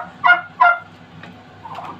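Two loud gobbles in quick succession from Hybrid Converter broiler turkeys, followed by softer clucking calls, over a steady low hum inside a barn.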